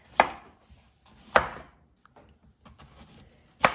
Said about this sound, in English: I'm also going to cut this one up in strips.